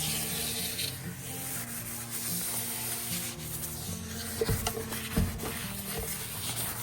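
A cloth wipes dust from a sanded, hand-carved cypress wood sink, giving a continuous soft rubbing and brushing close by, with a couple of light knocks partway through.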